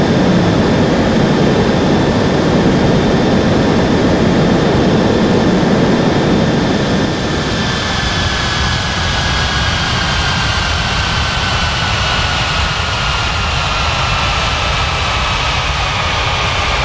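A jet airliner at São Paulo airport roars loudly on the runway, a dense steady engine rumble with a high turbine whine that slowly falls in pitch, heard alone.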